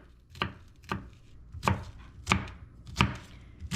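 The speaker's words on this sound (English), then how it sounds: "I'm going to finish chopping up that onion" A knife chops through an onion on a cutting board, about six sharp, close knocks at a slightly uneven pace, with quiet gaps between strokes and no talking.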